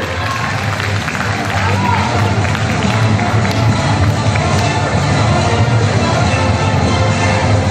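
An audience claps and cheers for the champion team of a high school tournament at a Zeytinburnu youth center, loud sustained applause filling the hall throughout, with an announcer's voice running over it.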